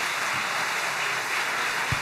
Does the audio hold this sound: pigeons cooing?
no